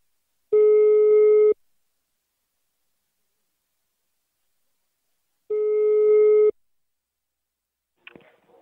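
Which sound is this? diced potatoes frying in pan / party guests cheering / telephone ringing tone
telephone ringing tone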